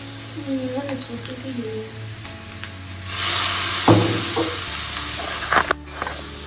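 Chow mein frying in a pan gives a steady sizzle that swells into a loud bright hiss, broken by spatula knocks, with a person talking over it early on.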